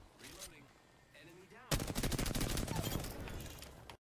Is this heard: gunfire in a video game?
yes